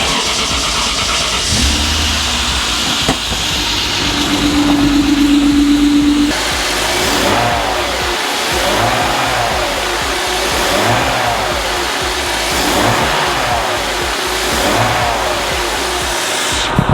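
A rebuilt BMW E36 engine cranks and catches, then revs repeatedly in strong rising and falling bursts, loud and close throughout with no talking over it.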